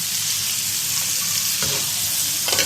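Onions frying in oil in a pan until browned, making a loud, continuous hiss and sizzle with a few brief stirring scrapes near the end.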